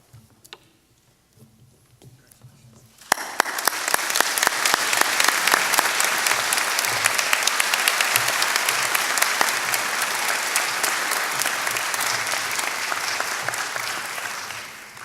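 An alumni weekend audience at Ohio Wesleyan University breaks into steady, full applause after a quiet opening few seconds. The clapping stays dense and even until it eases slightly near the end.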